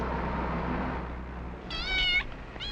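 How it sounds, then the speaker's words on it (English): A house cat meows outside after being locked out, two drawn-out, close, fairly loud meows following a low rumbling room background, the second cut short. "Your cat seems to have gotten itself locked out."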